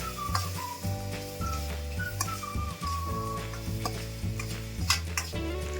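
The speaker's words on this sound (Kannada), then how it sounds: "ಅದು ಎಣ್ಣೆಯಲ್ಲಿ ಸ್ವಲ್ಪ ಫ್ರೈ ಆಗ್ತಾ ಇರುವಾಗ ನಾನು 1 ಚಿಟಿಕೆಯಷ್ಟು ಅರಶಿನ, ರುಚಿಗೆ ತಕ್ಕಷ್ಟು ಉಪ್ಪನ್ನು ಹಾಕಿ ಅದನ್ನು ಮಿಶ್ರಣವನ್ನು ಒಗ್ಗರಣೆಯನ್ನು ಮಿಕ್ಸ್ ಮಾಡ್ತಾ ಇದ್ದೀನಿ ನಾನು." A spoon stirs a tempering with a pinch of turmeric and salt as it fries in oil for a Karnataka ridge gourd and sesame dish, soft scraping and light sizzling under steady background music.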